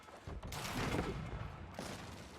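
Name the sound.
hand cannon gunfire in video game Age of Empires 4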